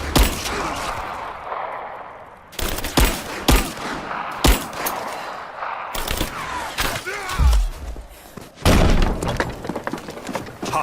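Gunfire during a firefight in the video game Rise of the Tomb Raider. Loud bursts and volleys of shots crack in irregular clusters, mixed with impacts and shattering debris.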